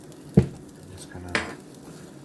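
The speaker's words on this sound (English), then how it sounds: "I'm just going to stir this around a bit here." A spoon stirring sugar, water and measured roots in a pot for homemade root beer, giving two or three brief clinking scrapes against the pot with quiet pauses between.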